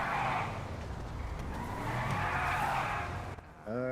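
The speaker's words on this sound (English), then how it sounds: "Yeah, the accelerator got stuck." A car with a stuck accelerator in the RedlineRP game skids and squeals its tires over a revving engine, fairly loud and continuous before cutting off abruptly near the end.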